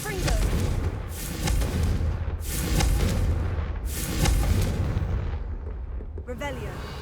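Repeated heavy booms from the Confringo fire spell in Hogwarts Legacy, several explosive bursts a second or so apart over constant battle noise, with a voice briefly heard.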